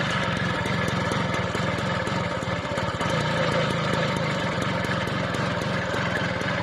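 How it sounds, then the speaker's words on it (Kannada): A modified motorcycle built from merged KTM, Yamaha and TVS parts runs nearby with a steady, even engine drone and fine rapid pulsing, holding at a constant level throughout. "KTM ಯಮಹ TVS ಮೆರ್ಜ್ ಆಗಿರೋ ಬೈಕ್ ಸೌಂಡ್ ಹೇಗಿದೆ."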